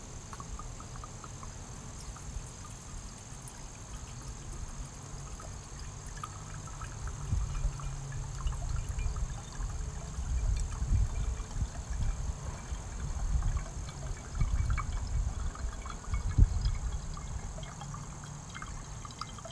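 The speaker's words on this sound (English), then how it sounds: "first I'm going to be adding some of the balsamic vinegar into the Four Thieves Vinegar" Balsamic vinegar poured from a freshly opened bottle into a bottle of Four Thieves Vinegar, giving a soft, continuous trickle with low handling rumbles and small bumps, fairly faint and close, with nobody speaking.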